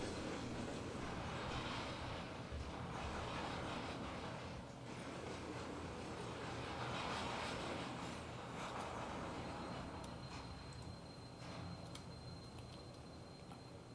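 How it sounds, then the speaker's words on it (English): A model railroad train runs at a steady pace, producing a continuous soft rumbling whir with faint ticking of wheels on track, fairly quiet and unbroken throughout. "Now this train has gotten up to 9 miles an hour."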